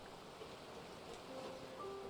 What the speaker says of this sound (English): Oh, I love the rain's sound.